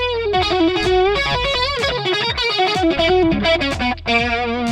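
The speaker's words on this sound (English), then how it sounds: "I'm just going to solo over a backing track" A distorted electric guitar plays a fluid solo over a backing track, sustained bent notes and quick runs, loud and up front with steady bass and drums beneath.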